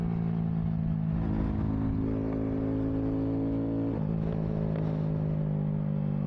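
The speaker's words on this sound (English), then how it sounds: "the ability to make your Grom backfire" Idling Honda Grom motorcycle with an upgraded ECU tuned to backfire, a steady close engine drone with faint pops and a brief shift in pitch partway through, no voices.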